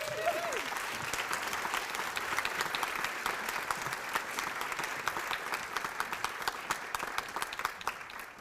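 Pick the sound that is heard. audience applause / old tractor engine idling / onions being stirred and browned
audience applause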